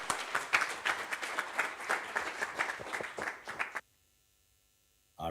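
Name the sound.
audience applause for a conference speaker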